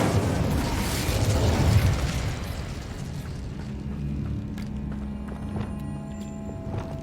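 The Incendio fire spell in the video game Hogwarts Legacy bursts out loud and roaring for about two seconds, then dies into a lower, rumbling game ambience.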